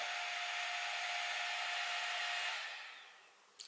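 A steady whirring hum from the cooling fans of an Inia Haute Pro laser hair removal device runs close by, then winds down and fades, followed by a brief faint click.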